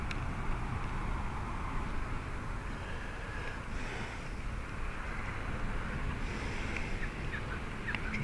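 Strong outdoor wind buffets steadily for the whole stretch, a dense low roar with gusty swells and no clear pauses.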